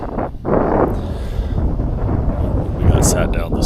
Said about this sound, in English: The wind has really picked up.